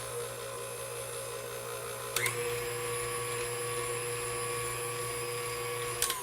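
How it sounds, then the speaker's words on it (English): A blender whirs steadily, mixing dark brown sugar and vanilla for a raw plant-based recipe. The motor drone is close and continuous with no talk, and brief clicks occur near the start and end of the run. "you're going to go ahead and give that a hit with the blender"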